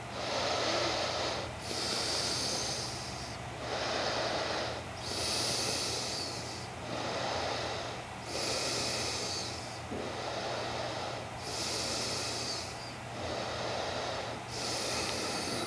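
Slow, deep breathing held in a yoga pose, loud close inhales and exhales in a regular rhythm of about eight breaths, hissy and airy, with no talk.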